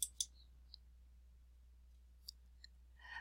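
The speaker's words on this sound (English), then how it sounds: "to assign, you would click on the Online Administration button" Computer mouse button clicks while assigning an assessment online, a few sharp isolated clicks spaced irregularly over a quiet background hum, close and crisp.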